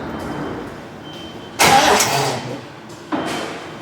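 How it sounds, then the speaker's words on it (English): A Triumph TR6 under restoration cranks on ignition, with two loud bursts of starter and engine turning over against steady background noise, close by. "the car went to turn over"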